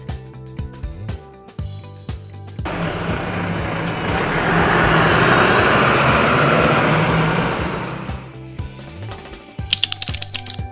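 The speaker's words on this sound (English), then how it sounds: "Bus." A bus on the road gives a broad, rushing engine rumble that swells, holds for several seconds and fades, set against a rhythmic clicking backing beat.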